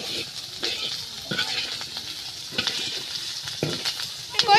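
Shrimp and bottle gourd with green chilli and coriander frying in a village home kitchen give a steady sizzle with occasional stirring knocks, and faint voices murmur in the background.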